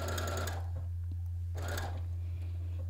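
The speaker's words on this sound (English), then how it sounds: "I also decided to sew the edges to avoid them from fraying when washing" A sewing machine stitches fabric edges in two rapid bursts over a steady low motor hum, close and fairly loud, with a pause between.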